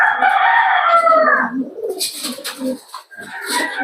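Pigeons in a large breeding loft coo and flutter, with a bird call rising clearly at first, then scattered cooing and rustling wings close by and fairly loud.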